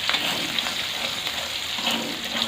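Chili and galangal spice paste stir-frying in a pan for spicy Indonesian oseng pindang with basil, a steady close sizzle with occasional stirring scrapes and no talking.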